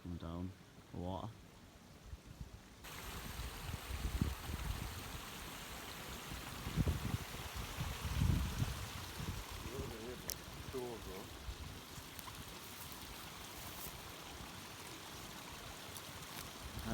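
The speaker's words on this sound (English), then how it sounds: "Natural stream coming down for water." A natural stream flows near a Welsh bothy in December, making a soft, continuous rushing babble. Brief voices come in at the start, and a few louder splashy swells rise during the clip.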